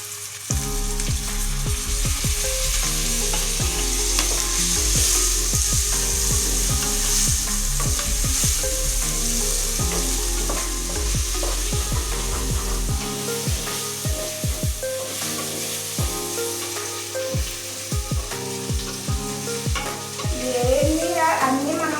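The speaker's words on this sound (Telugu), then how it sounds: "ఇప్పుడు టమాటాలు వేసేద్దామన్నా." Chopped tomatoes sizzle and fry in a pan while a spoon stirs and scrapes steadily, close and continuous, during cooking for a soya chunk (meal maker) biryani made with basmati rice.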